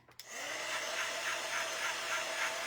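A hair dryer switches on and runs with a steady, loud airy whir while drying a snow buddies craft, close by and alone.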